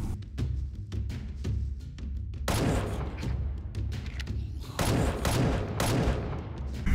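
Rapid bursts of video game gunfire from guns in a Game Guru first-person shooter, sharp repeated shots clustering into louder volleys partway through, with no other sound between them.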